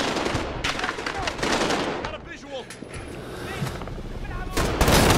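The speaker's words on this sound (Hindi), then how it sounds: "अबे गोली लग रही है।" Gunfire in a multiplayer action game strikes the player, with bursts of rapid shots that are loud and close, mixed with game noise while people talk over it.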